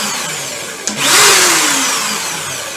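An electric drill with a faulty power cable sits silent, then after a sharp click its motor spins up and runs steadily and loudly up close, a whirring whine that holds to the end.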